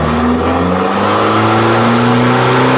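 A Toyota Kijang's 2.4-liter VNT turbo diesel engine revs loudly and close, its pitch climbing steadily as it builds under sustained throttle, with no voices.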